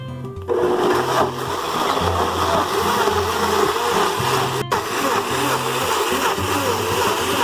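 An electric blender grinds bayanang medicine leaves for Lao cooking, giving a loud, steady motor whir with a pulsing low drone and one sharp click partway through.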